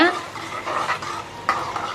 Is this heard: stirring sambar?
yes